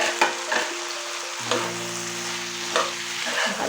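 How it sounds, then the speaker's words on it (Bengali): Fried soybeans being stirred into chilli sauce in a pan for a vegetarian Chinese-style dish, with a soft constant sizzle broken by a few scattered utensil knocks, close and moderately quiet. "আপনারা কিছুক্ষণ এটাকে নাড়াতে থাকবেন।"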